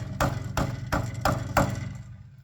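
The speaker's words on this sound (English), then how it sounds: "Here's my rattling catalytic converter." A 2003 Grand Marquis exhaust with a loose-gutted catalytic converter gives five evenly spaced metallic rattling knocks over a low idling engine hum, close to the microphone.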